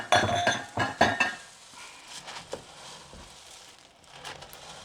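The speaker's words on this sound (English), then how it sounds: "And then we're just going to stir and mix." Cocoa Puffs cereal being stirred into melted peanut butter in a pot, with a few loud scraping clinks at first, then softer, sticky scraping and occasional taps with no one speaking.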